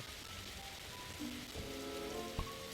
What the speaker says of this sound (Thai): แอบก่อนนะฝนตก ฟ้าเดี๋ยวฟ้าจะผ่าตาย